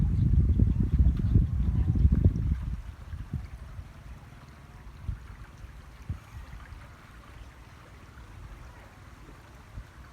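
Water flows after a storm in rural Isan, Thailand, a heavy rushing wash loud for the first few seconds, then settling into a softer, steady trickle with occasional splashes.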